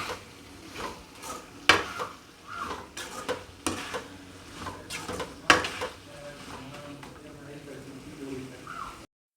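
Onions fry in a pan with chili powder, kulambu chili powder, turmeric and curry masala powder for mutton kulambu, giving a soft, steady sizzle broken by irregular, close stirring scrapes and utensil knocks.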